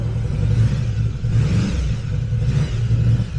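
A Yamaha VMAX 1700cc muscle motorcycle idles loud and close, its engine rumbling deep and steady with slight surges as it is revved. No voices are heard.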